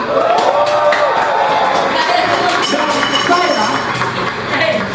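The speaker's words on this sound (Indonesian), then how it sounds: "tepuk tangan juga buat Indonesia yang sudah mengumpulkan sementara emas terbanyak" A large crowd cheers and claps loudly and continuously for Indonesia's SEA Games gold medals, with scattered whoops rising above the roar.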